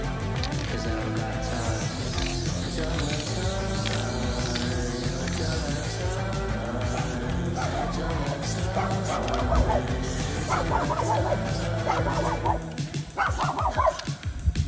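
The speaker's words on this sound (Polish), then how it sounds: "Bardzo słodki piesek." A small dog barks repeatedly outdoors in Warsaw, with yips and whimpers rising over a dense, busy background of other noise. The barks come near and moderately loud.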